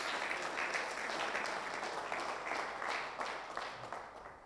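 Sustained audience applause fills the room at a church ministers' gathering, a dense, steady clatter of many hands clapping throughout, loud and continuous with no speech over it.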